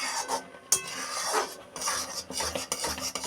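A utensil stirs and scrapes vermicelli around a metal kadai over a low-to-medium gas flame, making close, irregular clinks and rasping scrapes with no talking.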